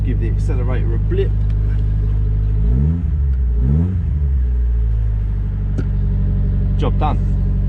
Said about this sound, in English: Let's give the accelerator a blip.